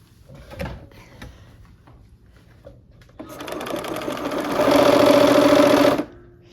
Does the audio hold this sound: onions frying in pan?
no